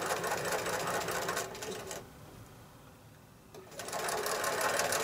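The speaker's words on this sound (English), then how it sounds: "It's time to stitch it." Sewing machine stitching the seam of a pieced basket quilt block, a steady loud mechanical whir that pauses briefly midway and then resumes.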